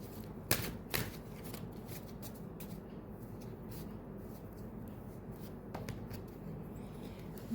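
Tarot cards shuffled and dealt during a reading: a couple of sharp card snaps near the start, then a steady soft papery rustle and riffle close by, with another small snap toward the end.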